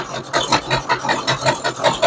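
A 1967 Cougar engine idles with a nasty intake or exhaust manifold leak, giving a steady, rough running sound with a regular pulsing rhythm, close and fairly loud, with no talk over it.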